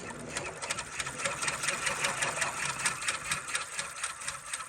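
An embroidery machine stitches a fitness logo, running zigzag then satin stitch, a fast steady mechanical rattle with regular needle strokes, close and continuous throughout.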